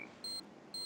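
Bomb-defusing beeps in the Counter-Strike video game: two sharp, bright electronic beeps roughly half a second apart, clean and loud over a faint background hum, with no talking.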